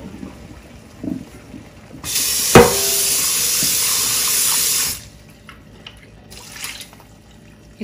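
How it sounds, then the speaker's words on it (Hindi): Water poured through grated potatoes in a strainer while making hash browns, a loud steady rush lasting about three seconds with a sharp clatter as it starts, then quieter kitchen sounds and no talking. "जो आलू हैं इनको अब मैं लेती हूँ स्ट्रेन करने।"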